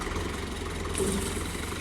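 A tractor engine rumbles steadily at a low, even level while pulling a large tree during farm work, with no other sounds standing out.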